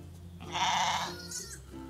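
A sheep or newborn lamb gives one clear, wavering bleat close by in a pen with other farm sheep, followed by a fainter call.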